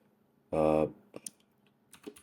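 A short run of computer keyboard typing: a buzzing burst, then a few scattered, soft key clicks, close and quiet.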